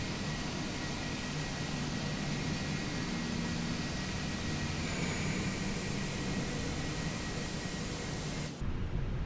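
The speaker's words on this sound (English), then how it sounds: "Another GA plane taking off." General aviation plane taking off in Microsoft Flight Simulator 2024, a steady broadband engine roar that holds for several seconds before cutting off abruptly near the end.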